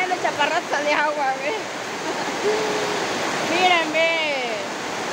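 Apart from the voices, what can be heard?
heavy rain pouring down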